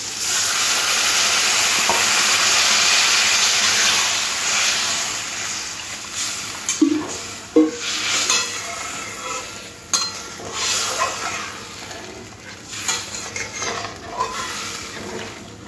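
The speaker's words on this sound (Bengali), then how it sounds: "এবার জল দিয়ে দেব।" Water poured into a fish curry masala in a pan gives a loud, steady sizzle and hiss that slowly settles, followed by a few scraping stirs and clinks of a spoon against the pot.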